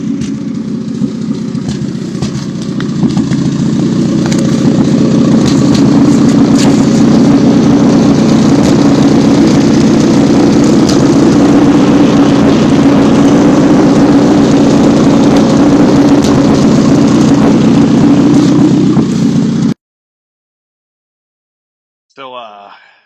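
A 30-year-old Mazda Miata with a blown muffler runs steadily for about twenty seconds, a loud, rough, droning exhaust rumble without pause, then cuts off abruptly, followed by a brief faint burst of talk.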